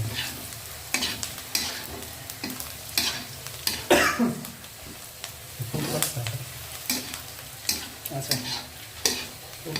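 Noodles stirred and tossed in frying oil in a pan, giving repeated scraping strokes over a steady close sizzle, with a faint voice now and then.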